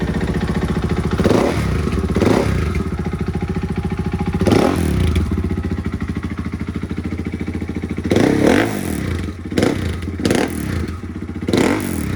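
A KTM 500 motorcycle with a Graves titanium exhaust idles loudly nearby, then revs hard in repeated sharp bursts, with the final revs coming quickly one after another.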